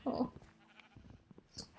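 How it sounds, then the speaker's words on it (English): Sheep bleating in the Minecraft video game, one short nasal bleat up close followed by quieter game sounds and scattered clicks. "Oh no, I killed some sheep."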